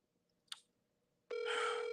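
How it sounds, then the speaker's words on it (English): An outgoing phone call rings unanswered, a brief click followed by a loud, steady ringback tone starting partway through. "does nobody want to answer their phone when I'm calling"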